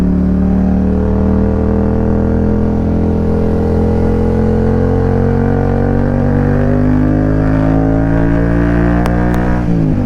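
A motorcycle carrying a pillion passenger runs loud and close, its engine droning steadily and gradually rising in pitch as it accelerates through the gears, with a brief shift near the end and no talking.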